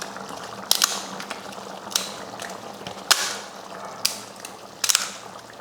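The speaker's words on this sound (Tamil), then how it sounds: "அந்த அப்பளத்தை உடச்சி இதில் சேர்த்துக்கலாம்." Fried appalam papads being broken and dropped into simmering kuzhambu, several sharp crisp crunches and cracks spaced over a low bubbling background.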